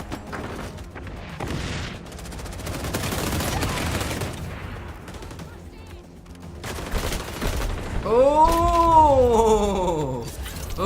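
Gunfire in the shooter game XDefiant: dense, rapid bursts of shots and impacts crackle nearly continuously, with a loud drawn-out groan or vocal cry rising and falling near the end amid the shooting.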